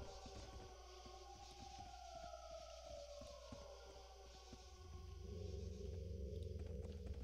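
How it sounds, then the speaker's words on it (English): A wolf howls in the dark, eerie night setting of the fantasy role-playing game Arcanum, a long wavering cry sliding slowly downward over a low rumbling ambient drone, moderately loud with no talking. "That's a wolf in the game"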